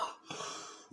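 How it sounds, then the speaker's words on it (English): A few short, raspy coughs close by, separated by brief pauses, with no talking. "Sorry about the coughing."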